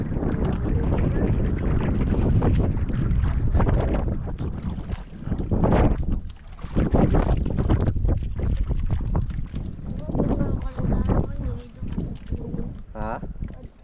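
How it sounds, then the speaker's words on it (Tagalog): Strong wind roars and buffets the microphone aboard a small fishing boat at sea, swirling and gusting steadily with brief lulls, while people talk intermittently over it. "Ikot-ikot na naman yung hangin."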